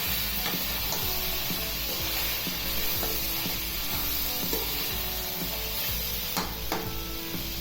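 Sautéed mutton being stirred with turmeric powder in a pan, a steady sizzle with scraping and clinking of a spoon against metal, close and continuous with no talk.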